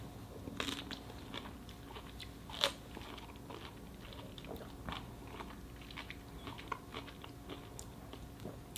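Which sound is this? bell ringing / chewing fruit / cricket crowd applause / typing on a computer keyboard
chewing fruit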